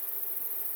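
Honey bees buzz inside a beehive in a steady, dense drone, faint but continuous for under a second.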